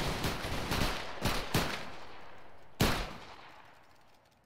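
Musket volley fire in the game Battle Grounds III: a ragged crackle of several shots, a couple of sharper cracks, then one loud close report that rings out and fades.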